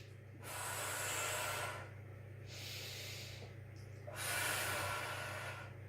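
During a pelvic tilt exercise for hip arthritis, a person takes two long, loud, airy breaths through the nose, each lasting over a second, separated by a quieter pause.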